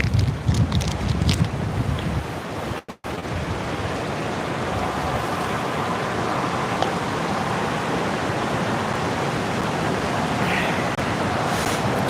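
Steady wind blows beside Resurrection River in Alaska, a loud, constant rushing roar buffeting the microphone, with a brief dropout early on and no talking.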